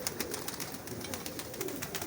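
Pet pigeons, including golden and teddy varieties kept in a fancier's loft, coo softly and continuously with a few brighter calls, faint and without any voices.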